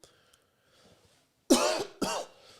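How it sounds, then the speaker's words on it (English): A lingering cough after an illness: two harsh, close coughs in quick succession following quiet background, loud and raspy with a throat-clearing quality. "the illness is gone, but this cough has stayed."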